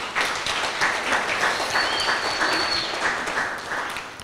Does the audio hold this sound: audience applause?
yes